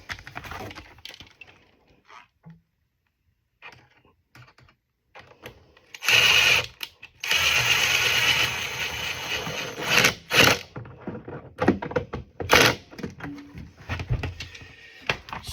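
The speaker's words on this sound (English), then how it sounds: "we're going to tighten up this last hose clamp here" A hose clamp on a 20-gallon bubble magic machine is tightened, giving intermittent close ratcheting and scraping tool noises with pauses between bursts.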